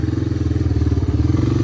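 Three-wheeler engine chugging steadily up close while riding a forest trail, a loud, even low-pitched pulsing drone with faint clatter and no breaks.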